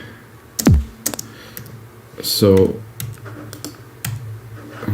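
Computer keyboard keys click in scattered taps while musical typing is set up in music production software, with a person speaking briefly over the keystrokes.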